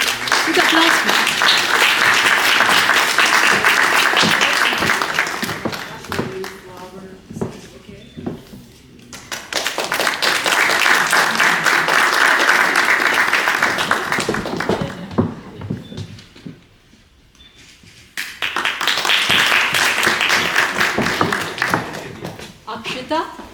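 Loud, sustained applause fills a graduation ceremony hall in three long bursts, each lasting several seconds and separated by brief lulls where names are announced.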